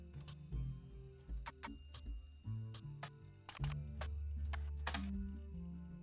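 Keyboard typing in the video game The Roottrees are Dead, with a clacky, typewriter-like sound. Irregular sharp clicks come in short bursts over a soft tonal background.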